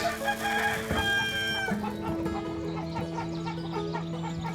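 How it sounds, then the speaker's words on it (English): Chickens cluck and crow in a close, busy farmyard flock at feeding time on a permaculture farm in Madeira, with overlapping calls and steady activity throughout. "The day at Arambha starts with the chickens"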